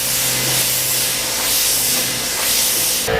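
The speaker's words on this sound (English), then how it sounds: "And it's a Harbor Freight gun and compressor." A Harbor Freight spray gun driven by a compressor lays down clearcoat on a carbon fiber part, a loud continuous airy hiss that runs steadily without a break and cuts off at the end.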